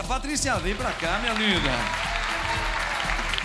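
Applause rises for a guest on a live Rede Vida TV show, clapping running under a man's spoken greetings and a brief exchange of voices, continuing more evenly once the talking fades.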